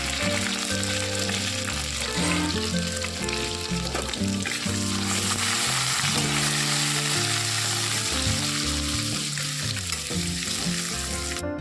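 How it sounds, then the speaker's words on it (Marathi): Spices tempering and sautéing in oil on low heat for a spicy samosa filling, a steady dense sizzle running throughout, loud and close, with clear musical tones layered over it. "ते सर्व आपण त्यामध्ये घालून घेऊन त्याला व्यवस्थित परतून घेऊया गॅस थोडासा कमीच ठेवायचा आहे"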